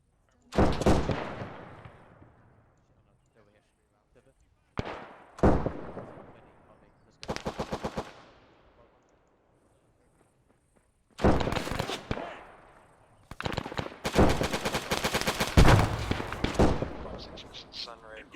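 Artillery and gunfire in a World War 2 desert battle game, with distant booming blasts, rattling bursts of machine-gun fire and single shots spread across the scene amid sporadic indirect fire.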